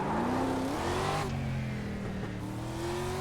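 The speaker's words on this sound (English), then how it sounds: "375 horsepower carbureted V8s. Pretty quick to rev" A 375-horsepower carbureted V8 street stock race car revs close by, a loud steady engine drone that rises in pitch, drops briefly, then climbs again, with no voices.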